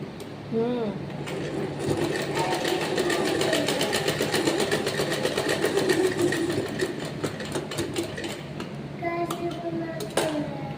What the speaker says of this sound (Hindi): इसको इस तरह से रखेंगे और यहाँ से डबल सिलाई करेंगे और फिर सीधी सिलाई निकाल लेंगे